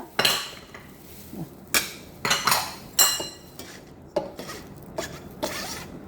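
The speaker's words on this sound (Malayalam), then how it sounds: "ഇനി നമുക്ക് വിഷ്ട് വെച്ച് ഇളക്കി കൊടുക്കാം." Brownie batter of oil, coffee powder and maida being whisked in a bowl, heard as a series of sharp metallic clinks and scrapes against the bowl at an irregular rhythm, close and fairly loud, with no talking.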